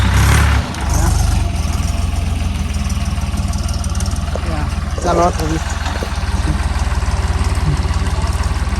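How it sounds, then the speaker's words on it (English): A farm tractor engine idles steadily and loudly throughout, a low continuous throb on a Kenyan village farm, with people talking over it. "This is how it looks like. The tractor."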